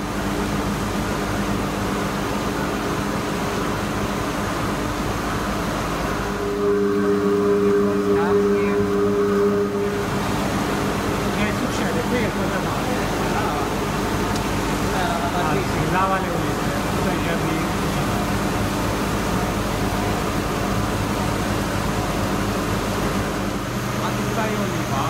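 Machinery in an olive oil mill runs steadily, a continuous mechanical hum and whir with a rhythmic rumble that stays constant throughout, while people talk over it.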